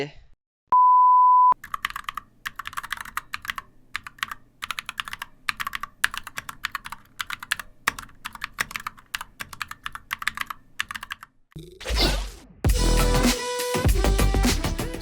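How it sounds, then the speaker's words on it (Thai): Keycaps pressed one by one onto a Glorious GMMK TKL barebones keyboard, a long run of quick plastic clicks and taps at close range, with a short electronic beep early on and a louder burst of noise near the end. "ก็ถึงเวลาของคีย์แคปแล้วก็ใส่คีย์แคปตามเข้าไปได้เลยนะครับ"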